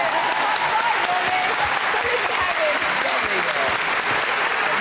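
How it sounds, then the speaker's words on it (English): Audience at the Pride of Britain 2013 awards bursts into sustained applause, a dense, steady wash of clapping that holds loud and even throughout, with cheering voices mixed into the crowd. "Give them a clap, please"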